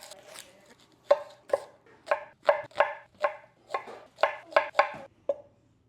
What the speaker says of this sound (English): And then I'm gonna go ahead and chop this onion next.